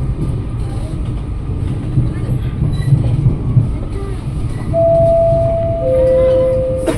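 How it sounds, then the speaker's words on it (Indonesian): A Tokyo Metro 6000-series commuter train rumbles in along the platform, clattering over the rails before sustained wheel squeals ring out as it brakes. "Nah, itu KRL kita tadi tuh, Tokyo Metro 6020"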